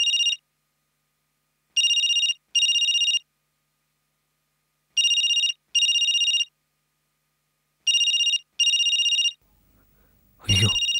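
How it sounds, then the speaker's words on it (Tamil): A telephone ringtone sounds in clean electronic double bursts, repeating in regular pairs with silent gaps between, loud and close, followed by a short noisy sound at the very end. "ஐயோ, ரோஹிணி ஃபோன் பண்றா."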